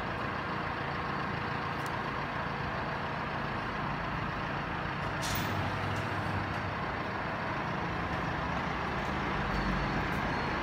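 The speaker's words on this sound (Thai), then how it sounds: "เดี๋ยวถ่ายรถเขาเจ้าออกกัน" A large vehicle's engine rumbles steadily and loudly close by as it pulls away, with a short hiss near the middle and constant road noise underneath.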